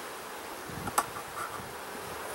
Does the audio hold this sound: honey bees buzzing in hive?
yes